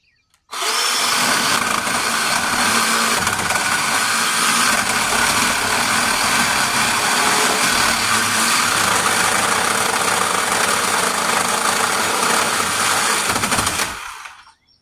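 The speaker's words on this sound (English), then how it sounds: "Using my 10-inch Craftsman 20-volt saw." 10-inch Craftsman 20-volt cordless saw cutting through wood during an old barn renovation, a loud continuous whining buzz held steadily for about fourteen seconds, close up, then stopping.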